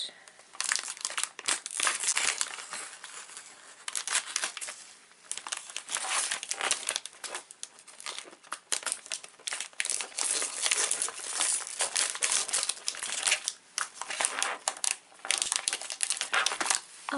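Steady crinkling and rustling of paper, close by, continuing for a long stretch with brief pauses, as scissors cut out paper pieces and they are handled.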